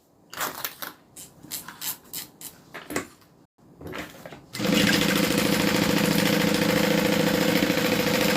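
A sewing machine stitches fabric on a modified crossbody bag, starting with a few short bursts and stops, then settling into a loud, steady continuous run of rapid stitching for the last few seconds.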